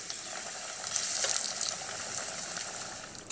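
Pork spare ribs frying in hot oil give a steady, dense sizzle that holds loud and continuous throughout, with a brief surge near the middle and no talking.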